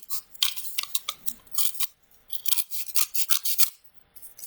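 Scissors snip through paper strips in a quick series of crisp, close cuts with brief pauses between bursts, no voices.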